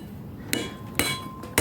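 A hammer strikes a knife to split a small transformer and recover its copper on a makeshift anvil. Three sharp metallic blows ring out about half a second apart over a steady low background.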